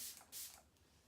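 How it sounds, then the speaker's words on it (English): A short burst of makeup setting spray hisses, pauses briefly, then a second longer hiss follows, close and fairly loud. "And add some spray."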